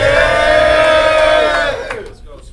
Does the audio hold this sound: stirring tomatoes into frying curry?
no